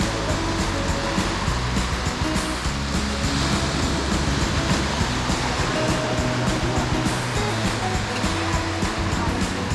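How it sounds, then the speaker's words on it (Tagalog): Ocean waves at Baler beach in the Philippines make a loud, steady roar of surf. "Picturean mo yung alon."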